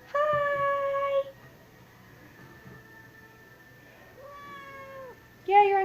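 A cat meows up close, two long drawn-out calls separated by a quiet pause, with a third beginning at the end and a faint low hum underneath.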